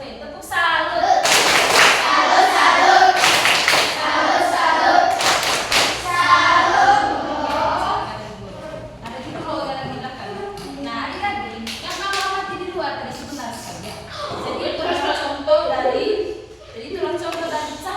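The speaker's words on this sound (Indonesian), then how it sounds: "Tepuk salut dulu, Fen. Tepuk salut." A classroom of pupils in a light-and-its-properties lesson performs a rhythmic salute clap, with bursts of hand claps and thumps mixed under steady children's and teacher's voices throughout.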